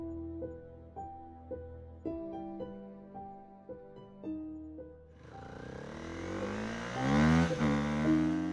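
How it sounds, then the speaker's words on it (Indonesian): A motorcycle engine revs and roars on a quiet night, rising from a steady mid-pitched hum into a loud, building surge that swells near the end, heard alone with no voices. "Suara motor Solihin meraung, memecah keheningan malam menuju rumahnya"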